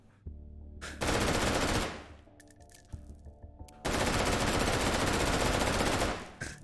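Full-auto gunfire in the VR shooter game H3VR, two long loud sustained bursts of rapid shots separated by a quieter pause with faint clinking, the second burst running to near the end.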